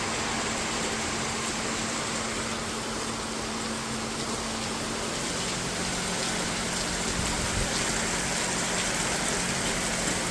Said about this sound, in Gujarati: અત્યારે જો બધું વરસાદ પાણી પાણી કરી દીધું